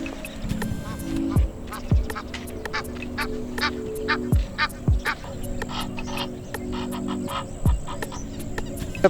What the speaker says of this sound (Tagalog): Dito, ang daming duck oh.